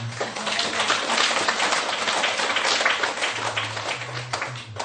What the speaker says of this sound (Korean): 박수 크게 쳐야지.